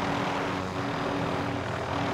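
Steady propeller airplane engine drone in a video game, a loud continuous hum with a low tonal buzz held evenly throughout, no voices over it.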